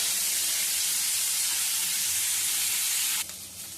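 Carrots and yard-long beans cook in a pan for a vegetable curry, giving a steady, loud sizzling hiss that drops off abruptly near the end.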